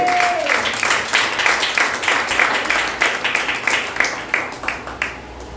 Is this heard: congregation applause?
yes